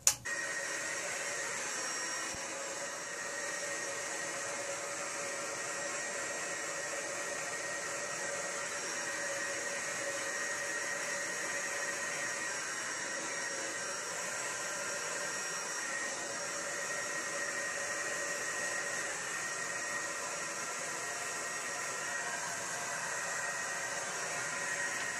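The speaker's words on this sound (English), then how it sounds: "I am blow drying my hair" Hair dryer blowing hair dry, a continuous steady whine and airy hiss with a constant level for the whole stretch, close to the mic and with nobody talking.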